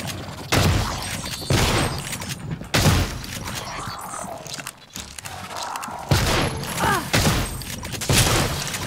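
Repeated bursts of gunfire in the video game Prey crack and boom in clusters, with mechanical clatter and footsteps between volleys, loud and close.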